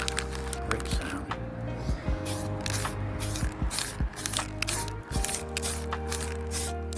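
Rust-Oleum spray paint hissing from a can in short repeated bursts, close and steady, with a hum underneath.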